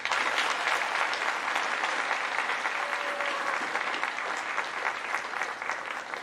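An audience at a school academic awards assembly claps for a student honoured for AP exam results, producing dense, sustained applause that holds steady and fades slightly toward the end, with no talk over it.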